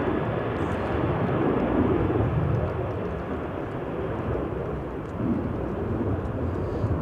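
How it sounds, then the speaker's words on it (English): A Ryanair jet airliner at Manchester Airport on a stormy day, its engines roaring in a steady, loud, broad rumble that holds throughout without pause, with no voices over it. "Good old Ryanair blasting away."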